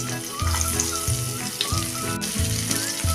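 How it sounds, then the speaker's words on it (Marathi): Onion frying in leftover oil in a pan, the base of a cashew masala gravy, a steady close sizzle with regular stirring scrapes. "आता ह्या उरलेल्या तेलात आपण पहिल्यांदा कांदा टाकूया"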